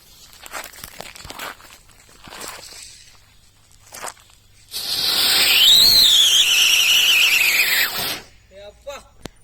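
An original Angry Bird fancy firecracker lets out a loud, piercing whistling shriek that swoops up and then slowly falls over about three seconds, with faint shuffling and small clicks before and after.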